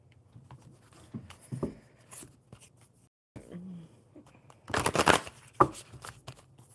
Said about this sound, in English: All right, so let me shuffle the crows.